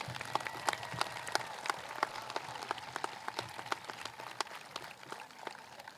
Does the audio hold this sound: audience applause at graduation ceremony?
yes